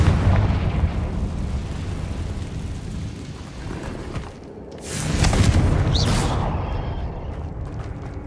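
A Confringo explosion spell from the video game Hogwarts Legacy, a loud rumbling blast that dips briefly before a second booming burst swells and fades, heavy and close amid the game's background din.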